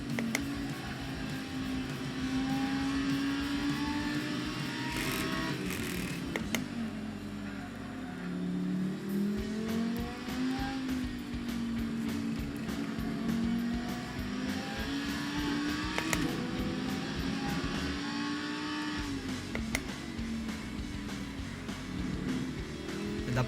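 Race car engine in a racing simulator game drones loudly throughout, pitch rising and falling through gear changes and corners, with people talking over it.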